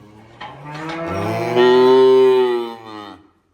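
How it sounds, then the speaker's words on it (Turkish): A cow on a barn farm gives one long, loud, close moo that swells and holds before trailing off. "Sen, sen bir böğür bakayım."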